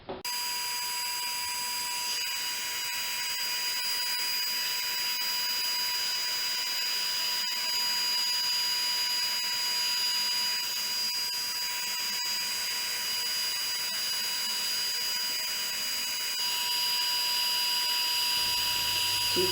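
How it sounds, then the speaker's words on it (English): A heat embossing tool blows hot air over embossed card pieces, giving a steady, loud whirring hiss with a high tonal whine that holds for the full stretch without a break. "I'm going to let my heat tool warm up for a second, and then I'm going to heat set both of these pieces."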